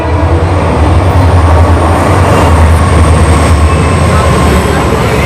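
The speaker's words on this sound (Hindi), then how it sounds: "वो देखो अभी ये जा रही है एक्सप्रेस।" An express train roars past on the track right beside a dense row of buildings in Mumbra, a loud, continuous close-up rush of wheels and carriages with a faint high squeal running through it.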